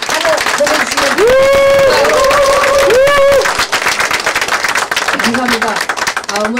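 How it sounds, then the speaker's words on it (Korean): A crowd at a political party's second-anniversary ceremony applauds and cheers for party leader Ahn Cheol-soo, a loud, dense, sustained roar of clapping with a voice heard over it. "우리 안철수 대표님께 더 큰 일 멋지게 하시라고 큰 박수와 환호 보내주시면"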